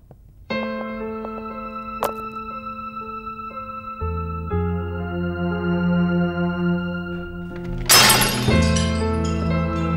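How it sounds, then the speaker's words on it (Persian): A drinking glass knocked over at a birthday party crashes to the floor and shatters in one sharp burst with tinkling shards, over sustained background music. "دست من خورد به لیوان افتاد زمین."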